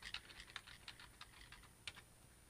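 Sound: typing a password on a computer keyboard

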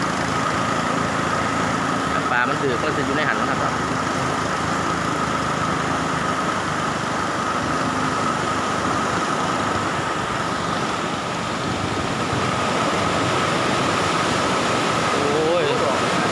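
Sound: boat engine revving at a dam

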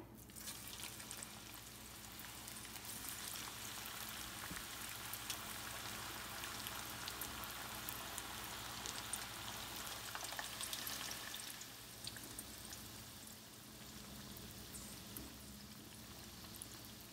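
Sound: chicken keema pakoras frying in oil

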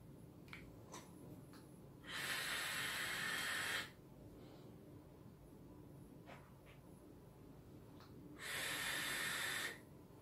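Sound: exhaling vapour from an e-cigarette vape

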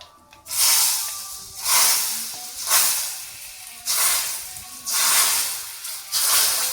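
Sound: tempering spices sizzling in hot oil

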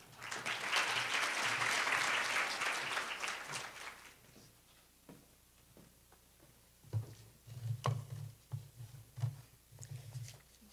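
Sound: audience applause

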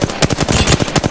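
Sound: gunfire in the video game Apex Legends

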